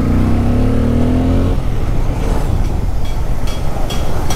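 Bajaj Pulsar N250 motorcycle engine and exhaust while riding, a loud, continuous drone whose pitch climbs steadily before settling into a broad, rough rumble mixed with wind rush.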